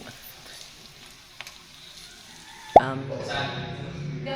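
Chicken sisig hits a hot pan with a sudden loud crackle that settles into steady close sizzling and frying, with voices talking faintly earlier.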